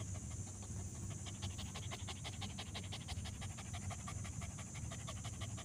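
A tired husky pants in a park, rapid steady breaths close to the listener and continuous through the clip, with no talk.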